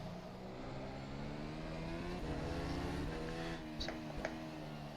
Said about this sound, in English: I actually didn't expect it to be so much fun to race this car around this circuit.